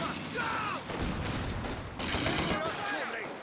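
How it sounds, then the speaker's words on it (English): Machine gun fire in Company of Heroes 2 comes as dense, crackling bursts of automatic shots that rattle on almost without pause, with other battle noise mixed in and a voice talking over it. "New machine gun crew ready and waiting."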